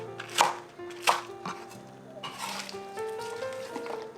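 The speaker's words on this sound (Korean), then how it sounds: "할레피노는 반만 썰고 반은 다져줄 겁니다" A knife chops jalapeño on a cutting board in a Korean kitchen, with two sharp, close strikes followed by softer cutting sounds over a low background hum.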